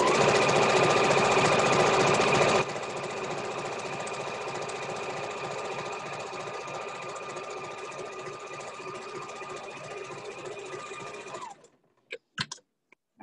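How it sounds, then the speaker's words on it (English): A sewing machine runs a continuous straight stitch across a ribbon skirt, a loud, steady whirring buzz that eases slightly after a couple of seconds and stops near the end, followed by a few brief clicks. "go ahead and do your straight stitch all the way across"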